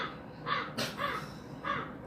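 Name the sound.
crows cawing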